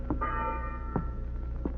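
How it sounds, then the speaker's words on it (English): A ship's watch bell rings aboard a vessel, one clear resonant strike with a long humming decay, followed by softer knocks, alone without voices. "I've been ringing this bell steady, sir."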